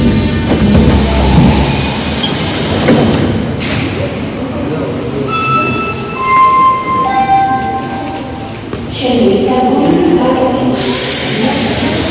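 A metro train runs through the underground, its rumble and rattle loud and close, with electric whines rising and falling as it moves, over background talk.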